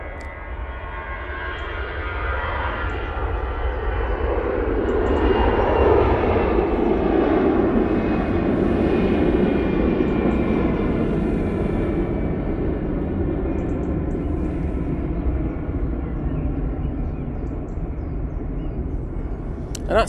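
An EasyJet jet airliner rolling for takeoff at Manchester Airport, a loud broad engine roar swelling and then easing off as it climbs away, heard alone at a distance.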